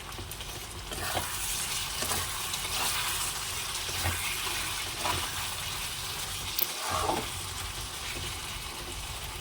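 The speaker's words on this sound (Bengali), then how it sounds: "তাই একটু এটা কষিয়ে নেই" Curry sautés in hot oil in a pan, giving a steady, even sizzle with occasional soft stirring scrapes, close and continuous with no one talking.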